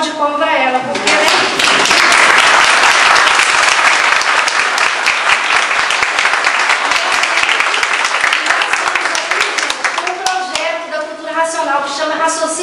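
A lecture audience at a spiritist centre applauds loudly and steadily for several seconds, the clapping dense and continuous before thinning out near the end, with voices mixed in.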